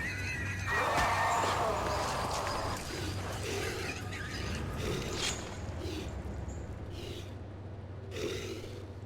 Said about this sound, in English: the butcher taking apart a two-back, which makes the noise of almost a dying pig